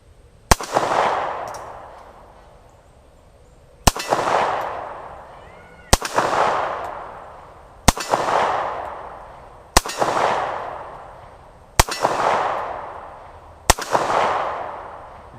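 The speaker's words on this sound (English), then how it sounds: "I love watching somebody fire at steel and hearing that round clank off that steel" Seven loud single shots of Wolf 9mm FMJ ammunition at an outdoor range, each a sharp crack followed by a ringing metallic clank and a decaying echo off a steel target, spaced roughly two seconds apart.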